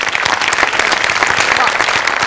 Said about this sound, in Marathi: अमोलसाठी एकदा जोरदार टाळ्या व्हायला पाहिजे